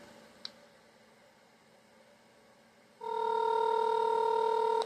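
Phone call tone on a repaired Samsung Galaxy A36 5G: after a quiet stretch with one small click, a loud steady dual-pitch tone starts and holds evenly to the end.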